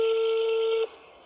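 A phone dialing for a call: a single steady electronic tone holds loud and even for most of a second, then cuts off into quiet background hiss.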